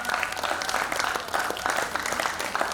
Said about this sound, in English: Let's clap for the teachers.